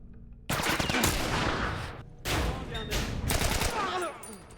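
Gunfire from The Last of Us as Joel massacres Fireflies soldiers in a hospital: dense bursts of shots crackling loud and close, broken by a brief pause, with faint voices beneath.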